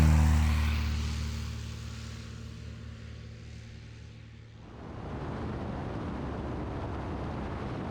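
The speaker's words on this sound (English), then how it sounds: "it gave him the rare opportunity to film both planes taking off" Tiger Moth biplanes take off, their engines droning loudly up close at first and then fading away. A broad, steady rush of wind or road noise follows, and no one speaks.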